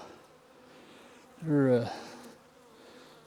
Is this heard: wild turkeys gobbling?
no